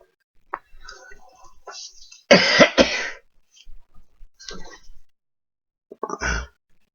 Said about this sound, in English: I choose to cough like that.